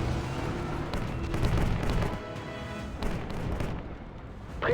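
Nebelwerfer rocket artillery firing in a World War II video game: loud, dense booming barrage with repeated sharp blasts over a continuous rumbling roar, building in bursts and ending with a fresh surge.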